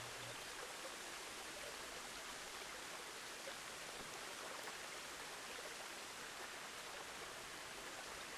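Steady rushing water from a waterfall in the Planet Zoo video game, a continuous broadband wash of flowing and splashing at even loudness, with no other sounds over it.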